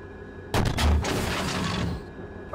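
A Challenger 2 tank cannon firing a HEAT round on a firing range in the Steel Beasts Pro PE simulator: one sudden, heavy blast followed by a rumbling decay lasting over a second.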